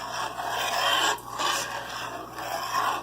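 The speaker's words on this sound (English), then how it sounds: "continue to stir it until you get a pudding-like consistency." Lemon curd being stirred steadily in a pot gives a close, continuous rasping scrape in repeated strokes, with a short pause just after the first second and no talking.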